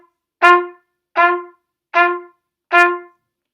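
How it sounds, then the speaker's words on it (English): A trumpet plays four short, detached staccato notes at an even, steady pace, each clipped and separated by clear silence, close and moderately loud with no voices. "So staccato notes would sound like this"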